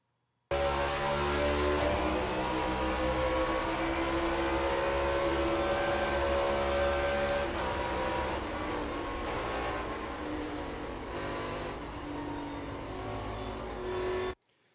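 In-car sound from Corey LaJoie's NASCAR Cup race car at Pocono: a loud, steady engine roar held at high speed for about fourteen seconds, with a gentle pitch drift and no voices.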